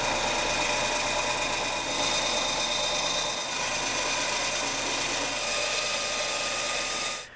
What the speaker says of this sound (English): Now I'm going to take this to the bandsaw and get it close